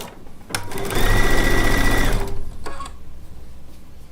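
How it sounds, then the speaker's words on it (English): Close and loud, a sewing machine stitches quilt fabric pieces made from charm packs, running in one steady whirring burst for about two seconds, followed by a short final run and faint handling sounds. "we're just going to sew our other pieces on"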